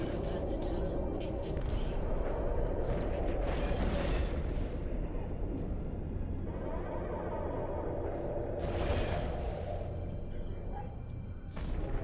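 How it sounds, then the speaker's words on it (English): Missiles strike a target in the Eve Online space game, heavy rumbling booms over a continuous dense roar, with two stronger bursts standing out, loud throughout. "Another missile on target."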